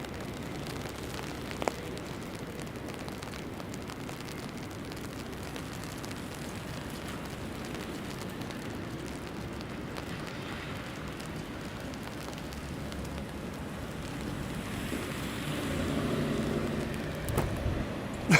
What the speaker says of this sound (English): Maybe the rain is picking up.